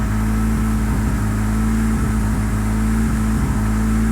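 A Mitsubishi 4G63 engine swapped into a Mini Cooper idles loud and close with a steady, rough drone, rising slightly as the throttle is blipped a little.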